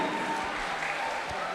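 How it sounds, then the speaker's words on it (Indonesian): Short burst of audience applause at an HKBP church choir festival, steady and fairly quiet, with a low murmur of voices underneath. "tepuk tangan dari dia."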